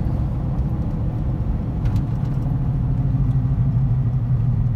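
Steady low road rumble from a 2011 GMC Sierra 1500 4x4 Z71 pickup's tires and engine while driving, a continuous even drone heard from inside the cab with no talking.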